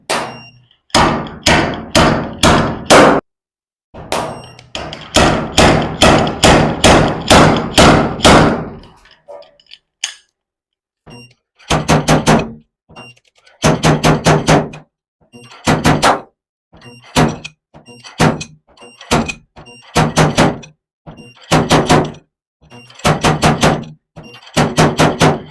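A Vevor spot welder dent puller working dents out of a 1998 Chevrolet C1500 truck body, heard as loud, fast trains of sharp slide-hammer knocks in repeated bursts separated by short pauses, close up.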